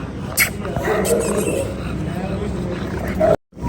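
Barking from American bully dogs at a breeding kennel in Punjab, a few sharp barks over steady background noise and people talking nearby.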